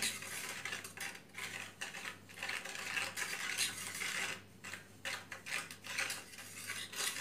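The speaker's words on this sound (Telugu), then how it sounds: "ఇంకా ఫిఫ్టీన్ సెకండ్స్ పాటు ఇలా బాగా మిక్స్ చేసుకోవాలండి" Junnu (milk pudding) powder and sugar being stirred together in a vessel, making soft, quiet, repeated scraping and clinking of a spoon against the sides in an irregular rhythm.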